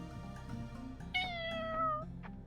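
A cat in the video game Shenmue gives a single clear drawn-out meow, rising then falling, heard alone against a quiet ambient game background.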